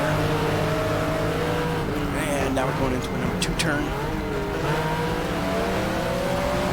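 Porsche 911 IROC race car engine in the GTR2 racing game, a continuous droning engine note that rises and falls as the throttle comes on and off through a turn, with someone talking over it throughout.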